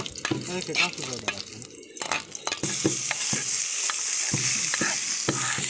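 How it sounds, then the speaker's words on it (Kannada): Urad dal, tomato, onion and vegetables fry in a pan, with close stirring scrapes and taps over a crackling sizzle that settles into a steady loud hiss partway through. "ಉದ್ದಿನಬೇಳೆ ಗೋಲ್ಡನ್ ಬ್ರೌನ್ ಕಲರ್ ಬರೋವರೆಗೆ ಚೆನ್ನಾಗಿ ಫ್ರೈ ಮಾಡಿ, ಆಮೇಲೆ ಟೊಮೆಟೊ, ಆನಿಯನ್ ಅಷ್ಟೇ ಅದನ್ನೆಲ್ಲ ಹಾಕಿ ಇನ್ನೊಂದ್ಸಲ ಚೆನ್ನಾಗಿ ಫ್ರೈ ಮಾಡಿಕೊಂಡ್ರೆ ಆಯಿತು."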